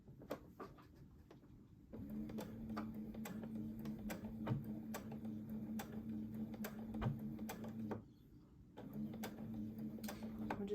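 A home sewing machine stitches quietly in two runs of steady motor hum with rapid ticking needle strokes, separated by a short pause and preceded by a few scattered clicks.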